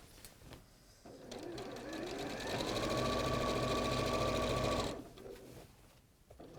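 An overlocker serging along fabric edges runs in one continuous fast whirring burst of about four seconds, rising and then stopping abruptly, with quiet room sound before and after.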